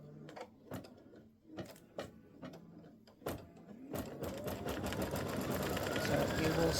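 An embroidery machine stitching a turkey's head and neck on a mug rug: a few spaced clacking stitch bursts, then a denser continuous whirring run, close by.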